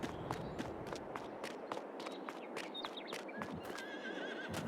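Hooves clop in a steady rhythm as a horse whinnies in a barn in Farming Simulator 22, faint and distant, with brief high squeals over the footfalls.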